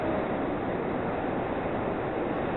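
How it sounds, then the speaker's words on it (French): Sea waves breaking against sharp rocks on the Île du Petit Gaou at Six-Fours-les-Plages, Var, on a windy Mistral day, heard as a steady, loud broadband wash of surf with wind buffeting throughout. "Les vagues heurtent les rochers tranchants."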